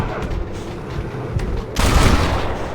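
Gunfire in Red Dead Redemption during a shootout ambush, rapid overlapping shots and booms building to a louder burst toward the end, close and dense with faint voice traces under it.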